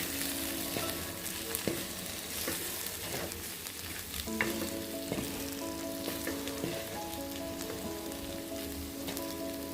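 Chili powder and spices fry in a pan with a steady, crackling sizzle like light rain, broken by occasional spoon scrapes and clinks, close and alone with no talk.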